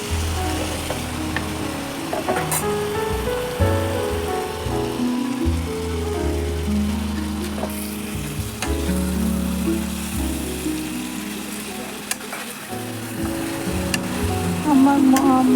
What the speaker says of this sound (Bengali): এবার মশলাটা দিয়ে একটু নেড়ে চেড়ে